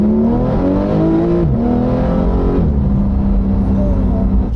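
A Porsche 911 sports car accelerates hard and close, its engine note climbing steadily with two quick gear changes along the way, loud and continuous throughout.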